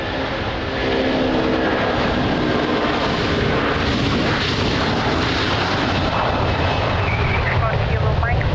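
Capital Airlines airliner at a rainy Lisbon Airport, a loud, steady engine roar that swells in after a quiet start and holds, with a voice talking over it.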